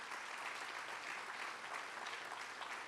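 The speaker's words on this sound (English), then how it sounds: "Please give them a big round of applause." Steady, dense applause from a convocation audience at Cal Poly Maritime Academy fills the whole stretch at an even level, with no voices over it.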